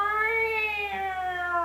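A voice imitates a wailing, meow-like siren: one sustained, rising then slowly falling harmonic tone, steady and fairly loud, heard alone.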